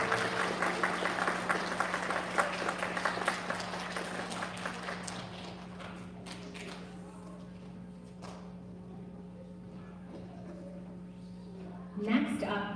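An audience at an elementary school student recognition ceremony claps for pre-K students. The applause is loud at first, then thins and fades over several seconds, with a voice talking faintly near the end.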